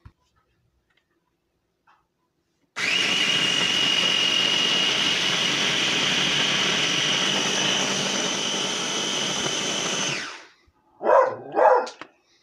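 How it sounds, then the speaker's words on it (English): A food chopper blender grinds a dried sea salt mixture in one loud, steady whir lasting several seconds close by, then stops, followed by two brief rattling pulses. "I'm going to blend this up anyway and give you a look-see."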